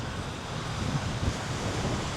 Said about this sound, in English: It's windy here, it's windy down here